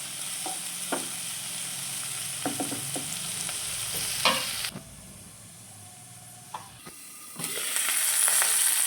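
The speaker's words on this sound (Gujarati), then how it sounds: "હવે આપણે આને બ્રાઉન કલરની સતાળી લઈશું" Ingredients for spinach khichdi sizzle steadily in a hot pan while being browned, with occasional stirring clinks and scrapes, a quieter stretch in the middle, then the hiss rising again.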